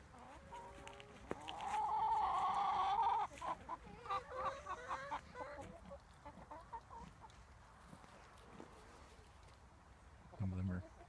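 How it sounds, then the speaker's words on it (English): Farm chickens cluck and squawk close by in an autumn yard, a loud burst of calls followed by softer scattered clucks, with a person talking over them. "Here's our chickens."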